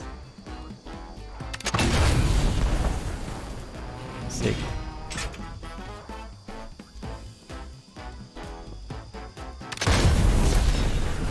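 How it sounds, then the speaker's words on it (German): Loud booming cannon blasts and explosions in Fortnite, with heavy impacts around two seconds and again near the ten-second mark, lighter crashes and rumble in between, and a brief spoken exclamation. "Oh, die macht ja richtig viel kaputt, so eine Kanone."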